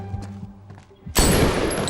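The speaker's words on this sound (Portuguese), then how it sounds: "ele dá um tiro no soldado que mais se afeiçoou ali pela Yosano" A sudden loud gunshot from an anime scene of Bungou Stray Dogs erupts after a quieter passage, bursting into a sustained, harsh blast that lingers.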